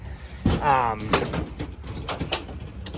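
A stuck cabinet door rattles and thuds as it is yanked open, with a creak and several knocks and bangs, while a voice speaks close by.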